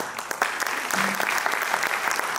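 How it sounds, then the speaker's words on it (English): Audience applause at a medical college and hospital Independence Day celebration, honouring the orthopedics department; dense, steady clapping from a large crowd that holds loud and even throughout. "So a big applause for"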